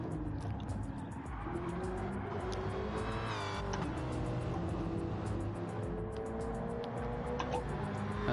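Race cars in a championship series event sweep through tight corner sections, engines droning loud and continuous with rising revs, passing whooshes and occasional tire squeal.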